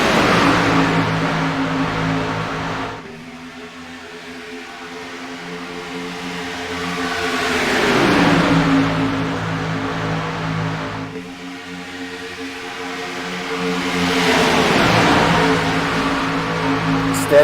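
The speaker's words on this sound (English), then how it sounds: "Craig Galgan, next car up on the lead lap." Race cars on an oval auto racing track roar past in repeated waves, engines swelling loud as each pass approaches and fading between, a steady mid-pitched drone under the surges.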